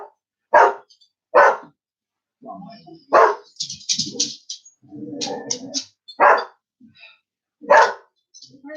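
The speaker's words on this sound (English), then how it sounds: "Frankie decides to have a bark, even though she was completely asleep." A pet dog named Frankie barks in sharp single woofs spaced a second or so apart, close and loud, with people talking between the barks.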